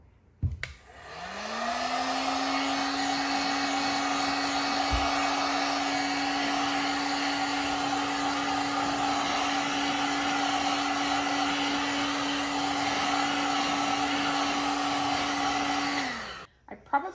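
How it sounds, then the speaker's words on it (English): A heat gun run lightly over the surface of a freshly poured homemade soy candle, a steady loud blowing whir with a constant hum, starting and stopping cleanly and running uninterrupted for about fifteen seconds with no talk. "I just grab my heat gun and I go over it lightly to even those out"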